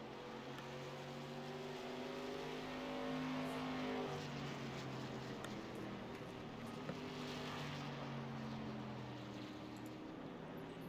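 Stock cars race around a track in a sim racing game, several engines droning and shifting pitch together in steady layered tones, with one car swelling louder for a moment as it passes.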